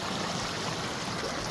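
River water flows along a trail with a steady, close rushing hiss that stays even and unbroken throughout.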